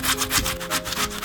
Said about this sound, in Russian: Картошку я натираю на крупной терке